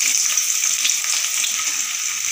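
Chopped onions drop into hot mustard oil already spiced with cinnamon and cardamom, giving a loud, steady frying sizzle with faint crackles, close and alone.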